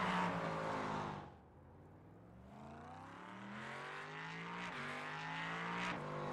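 LMP3 prototype race cars roar past in a racing pack, a loud engine note dropping away then rising again as several cars accelerate through with rising and falling revs, no talk.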